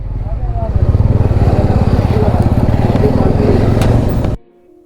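A motorcycle engine idles and revs steadily while the bike is parked on a hill road during a ride to Chakrata, running loud and close for about four seconds before cutting off into quiet.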